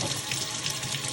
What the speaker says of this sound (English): Once again, we put just enough water over them